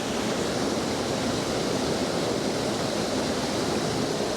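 A waterfall roars as a constant, broadband rush of falling water, steady and loud throughout with no voices.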